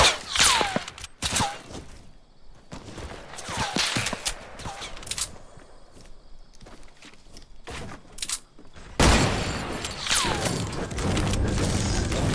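Fortnite gunfire from other players comes as scattered sharp shots and bursts, some close and loud and some more distant, with mechanical clicks between them and a dense stretch of firing near the end.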